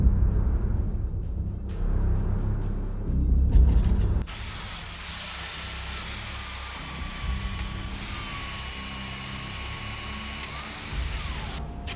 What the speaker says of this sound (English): So I'm just going to drill now for the vise